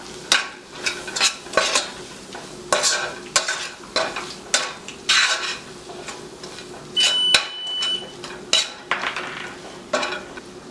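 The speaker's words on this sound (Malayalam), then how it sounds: "എടുത്തു വെച്ചിരിക്കുന്ന ചിക്കൻ മസാല ചേർക്കാം ഇതനി നന്നായിട്ട് മിക്സ് ചെയ്ത് കൊടുക്കുക" Chicken masala and chili powder being stirred in a pan for Thalassery chicken biryani: steady, rhythmic scraping strokes of a spoon against the pan over a light sizzle, close and clear with no voices.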